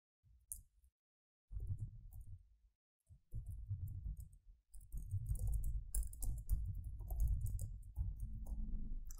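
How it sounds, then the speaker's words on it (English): Someone types text into an HTML lesson on a computer keyboard, giving close, muffled key taps in short bursts separated by brief pauses. The bursts grow denser and more continuous toward the end. "So let's type the text first."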